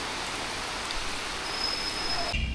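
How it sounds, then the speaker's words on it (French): Heavy rain pours in Abomey, Benin, as a continuous loud, even roar of water that fills the scene before cutting off abruptly near the end. "là, il pleut des cordes, donc on attend un peu"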